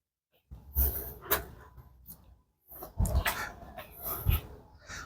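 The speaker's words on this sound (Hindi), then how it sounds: "यहाँ पर एक कुत्ता बैठा हुआ है" A dog at a historical tomb site in Delhi makes close, breathy whimpering and snuffling sounds in several short bursts, with a brief pause midway.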